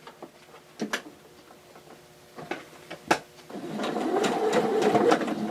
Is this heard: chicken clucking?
no